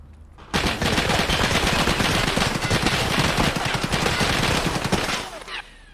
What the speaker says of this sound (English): So, pretty intense gunfight.